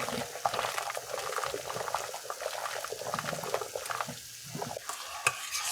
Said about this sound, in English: Give it another swizzle